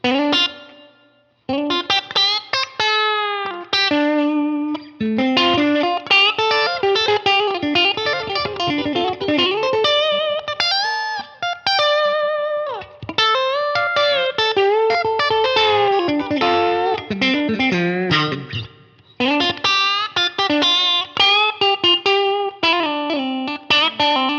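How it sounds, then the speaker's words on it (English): Electric guitar playing a melodic line drenched in big, lush reverb, notes ringing and blurring into a spacious wash, with no talking. "Let's add the reverb in. This is now, here's the big reverb."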